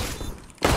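Gunfire in a first-person shooter game, a loud burst of shots that drops away briefly and then hits hard again near the end.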